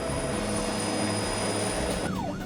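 A police helicopter in flight over London, a steady loud whine and rotor drone that holds throughout, with a falling electronic tone near the end.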